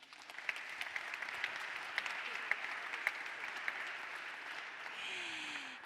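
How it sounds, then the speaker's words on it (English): Audience applause fills an economic forum hall, a steady wash of many hands clapping at moderate distance with a few sharper claps standing out, continuing evenly before thinning at the end. "you deserve already a first applause"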